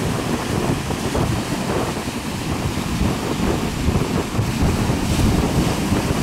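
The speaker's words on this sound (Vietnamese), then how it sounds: "Chạy tới là sóng vỗ ngược lại không à." Big waves slap against a small boat caught in a storm at sea, with strong wind roaring and buffeting the microphone in a loud, continuous rush and no break.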